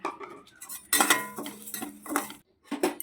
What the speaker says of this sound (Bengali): এবার আমি মুগের ডালটা ভেজে নেব